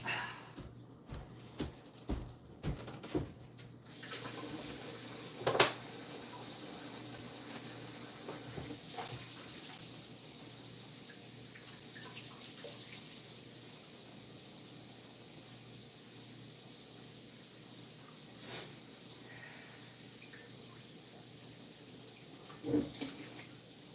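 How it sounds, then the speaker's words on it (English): Tap water runs steadily into a water bottle at a kitchen sink, a continuous close hiss-like stream that starts after a few soft clicks and knocks and carries on alone with small clunks. "I'm going to fill up my water bottle again."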